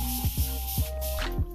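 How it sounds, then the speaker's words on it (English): A hissing spray from a 10oz continuous pressurized hair water bottle mister, steady with short repeated puffs as the nozzle is pumped, close by. "keep pressing the nozzle in order to get that continuous spray like this"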